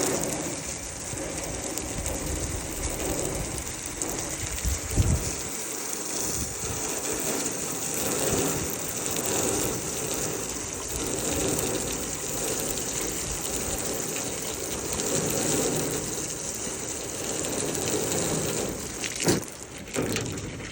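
Water gushes steadily onto the burning engine of a 1963 Chevy Nova drag car, making a continuous loud rushing spray with a few brief knocks and bumps partway through.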